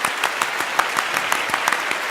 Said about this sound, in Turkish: Alkışlarınızı hak eden konuklarımıza hadi biz de alkışlayalım Barış Bey.